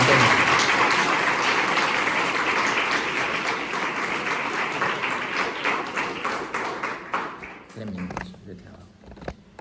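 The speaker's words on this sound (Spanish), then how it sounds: "os pido que le demos un aplauso" Audience in a parish hall gives a loud, sustained round of applause that gradually thins into scattered claps and fades out, with a voice starting to speak at the end.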